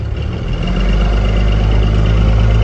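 Engine of a vehicle with a 47RH/47RE/48RE automatic transmission fitted with a Transgo TFOD-3 manual valve body, running during a road test: a steady, loud low rumble that swells slightly after the first second and holds, with no talk.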